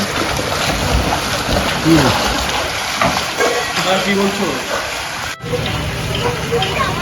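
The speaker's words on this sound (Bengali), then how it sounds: "একটা ডুবে ঘুরে বেড়াচ্ছে আর একটি সুন্দর সাঁতার কাটছে" Children swim and splash in a pool at a Mandarmani resort, with steady broadband water wash and splashing throughout and voices talking over it.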